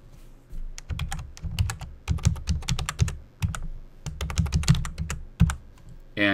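Computer keyboard typing as a domain username and password are entered, quick bursts of close, crisp keystrokes with short pauses between them.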